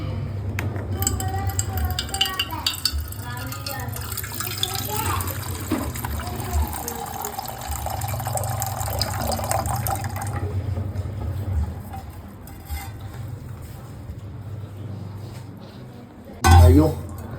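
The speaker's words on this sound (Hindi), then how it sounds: "पानी ले लेते हैं इसमें से।" Water is taken into a cooking pot to make tea at a roadside spot, with a steady pouring and trickling wash that goes on for a long stretch, then ends in a short louder clatter.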